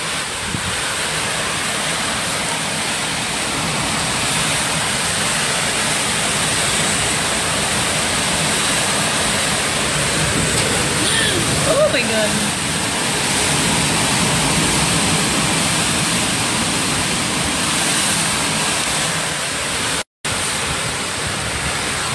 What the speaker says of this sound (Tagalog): Hindi kalakasan ng ulan pero yung hangin napakalakas.